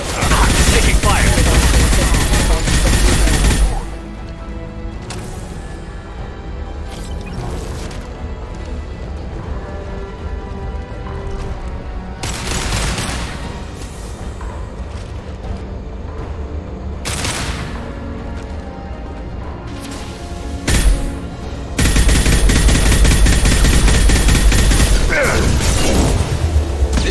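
Loud, dense video game gunfire roars in sustained bursts at the start and end, with a quieter stretch of scattered shots and mechanical clatter in between.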